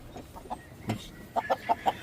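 Hatch roosters and stags on a farm make a series of short, close clucks and calls. Several sharp notes come in quick succession near the end over a quiet background.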